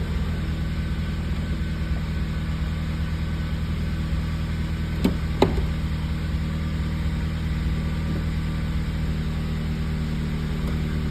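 A Mazda Miata NB engine idles steadily up close while the car is shifted into gear, with a couple of sharp mechanical clicks from the gear lever midway through.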